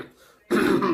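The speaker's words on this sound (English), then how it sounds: "Let me clear my throat." A man clears his throat once, a short rasping burst that starts abruptly after a half-second of near silence and stays loud and close until the end.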